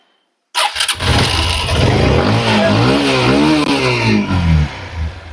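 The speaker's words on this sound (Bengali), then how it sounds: "দেখতেই পাচ্ছেন বাইকটির সাউন্ড কোয়ালিটি সবকিছু কিন্তু একদম বেস্ট" A Runner Nightrider motorcycle engine starts and is revved up and down several times, loud and close, with a rising and falling engine note before it settles back toward idle.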